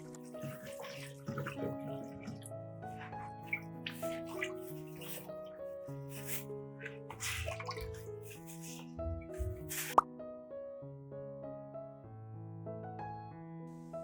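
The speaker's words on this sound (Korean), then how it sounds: "철 매염제와 비누가 묻어있는 천은 흐르는 물에서 깨끗하게 여러 번" Dyed cloth carrying iron mordant and soap is rinsed under a running tap, with steady splashing water throughout, sitting beneath continuous melodic background music.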